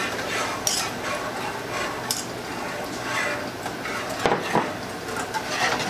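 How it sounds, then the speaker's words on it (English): Heavy cream is whisked into a simmering keto gravy in a pan, with a busy, continuous stirring rustle broken by light metallic clinks and taps, all close by. "We want to whisk that in very well."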